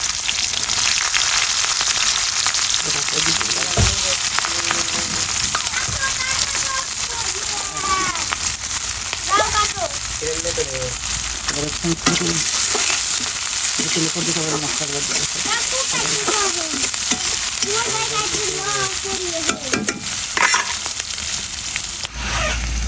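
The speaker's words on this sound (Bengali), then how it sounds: "এর মধ্যে আমি দেবো জিরা ফোড়ন, দিলাম জিরা, পেঁয়াজ, রসুন কুচি, মরিচ" Cumin seeds, chopped onion, garlic and chili hit hot oil and sizzle in a steady, loud crackling hiss throughout, with someone talking over the frying.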